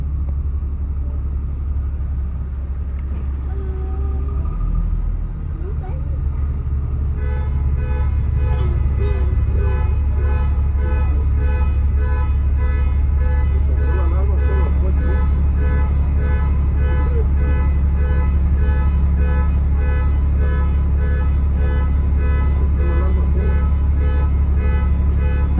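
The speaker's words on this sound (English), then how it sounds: "that unofficial symphony of any urban environment, the car alarm" A car alarm on a London street at night, its repeating electronic tones rising loudly over low engine rumble and traffic, joined partway through and then continuing steadily.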